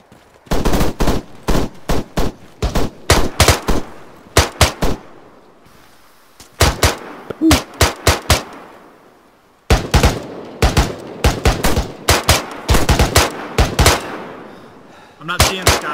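Loud machine gun fire in ArmA 3 during a co-op infantry battle in Kunduz, Afghanistan, coming as repeated rapid bursts broken by short pauses, close and dominant.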